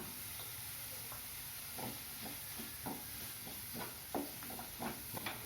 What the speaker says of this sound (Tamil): ஒரு குடமிளகா நீள வாக்கில் அரிஞ்சி வச்சுருக்கேன் அதையும் சேர்த்து வதக்கலாம்